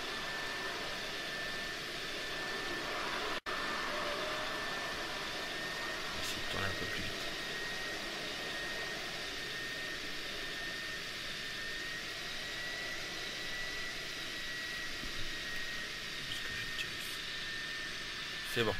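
Jet airplane landing on a runway in GTA San Andreas, a steady loud engine roar with a high whine held throughout and a brief dropout partway, with talk over it.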